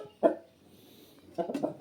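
A young rooster clucking close by, one short sharp cluck followed after a pause by a quick burst of several clucks, fairly quiet.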